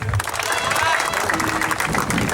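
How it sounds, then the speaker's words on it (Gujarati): Audience clapping at a cricket tournament presentation organised by the Machhi Samaj in Maroli, steady dense applause close by, mixed with voices in the crowd. "પહેલાં તો તાળી વગાડીએ આપણે"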